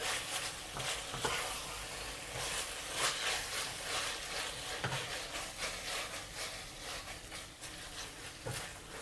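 Beef chuck pieces stir-frying in a hot pan for Chinese-style silky beef, a steady sizzle with soft scraping and clacking as the meat is pushed around, close and moderately loud.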